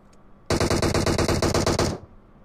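Gunfire from a battle royale video game during the final circle of a tournament match: one loud, rapid automatic burst of around fifteen shots lasting about one and a half seconds, with no talk.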